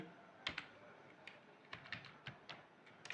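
Code is typed on a computer keyboard in quiet, close, irregular bursts of sharp key clicks separated by short pauses.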